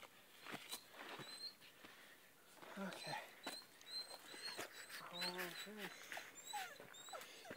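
A dog whimpers and squeaks in short high whines over soft patter and shuffling, faint and close, with a few brief voiced yelps between them.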